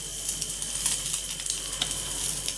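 Food half-frying in a pan in a home kitchen, a steady close sizzle and crackle with irregular spits and pops, heard alone without voices.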